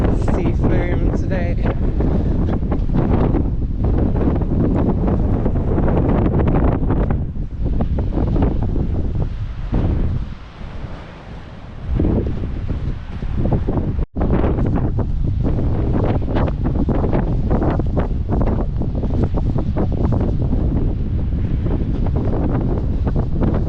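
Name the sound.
strong wind by the sea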